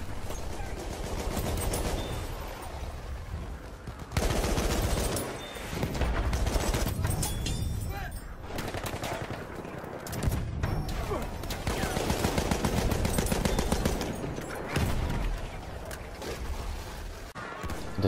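Battlefield 1 multiplayer gunfire: loud, dense bursts of rifle and machine-gun fire with explosions and battlefield clamour, continuous for the whole stretch with brief lulls.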